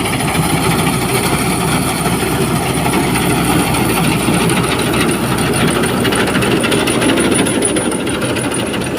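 A paddy harvesting machine cuts a standing rice crop with a loud, continuous mechanical clatter and rattling drone. It runs steadily for the whole stretch with no voices.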